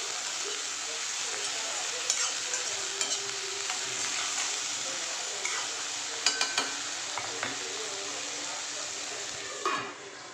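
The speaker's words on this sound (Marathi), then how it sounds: "आता टाकते बटाटे। 5 मिनटं स्लो गॅसवरती पण बटाटे शिजवून घेऊया।" Potatoes fry on low heat in a pan after onions, a continuous close sizzle with intermittent scraping and clicks of stirring, rising briefly near the end.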